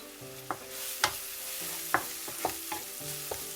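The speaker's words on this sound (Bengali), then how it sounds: "একটু নাড়িয়ে দিই" Turmeric and chili stirred into lightly fried onions in a pan: a steady sizzle broken by about seven sharp spoon scrapes and clicks at an uneven rhythm, close and fairly loud, with a faint sustained tone underneath.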